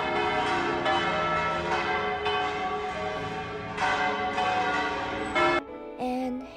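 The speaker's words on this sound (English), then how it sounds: "Have you ever heard the beautiful sound of bell ringing from a cathedral before?" Seville Cathedral bells ring out in repeated overlapping peals, rich and resonant with a long ringing sustain, loud and close before cutting off sharply near the end.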